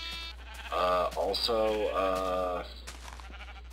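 Sheep bleating in Minecraft 1.2.5 on a sheep and colored wool farm, a few wavering, harmonic bleats close by, running into each other for about two seconds, with a short spoken word just before.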